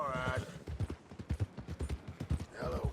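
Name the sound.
horse hooves and snorting in video game Red Dead Redemption 2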